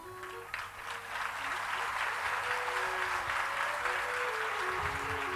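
An audience at a Shrimad Bhagwat religious discourse claps steadily in a packed pandal, a continuous, even wash of applause lasting several seconds, with faint musical tones and voices underneath.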